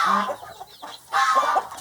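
Chickens cluck on a farm that raises Muscovy ducks, in two loud, close bursts of busy calling separated by a brief quieter gap.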